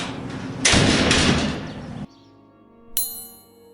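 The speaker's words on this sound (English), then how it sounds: "The reinforced door slammed shut." A loud, reverberant rumble ends in a heavy reinforced door slamming shut, followed by a sharp metallic clang that rings and fades.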